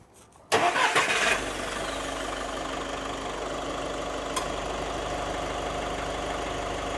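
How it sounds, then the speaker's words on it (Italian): A car engine cranks and catches with a loud burst, then settles into a steady, even idle that continues to the end. "Accendi il motore."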